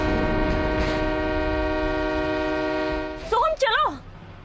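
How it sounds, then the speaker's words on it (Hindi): A train about to depart sounds a long, steady horn under a rumbling background, then the horn cuts out and voices rise briefly near the end. "ट्रेन चलने वाली है"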